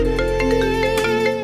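A mobile phone rings with a musical ringtone for an incoming call, a short, loud burst of melody heard alone.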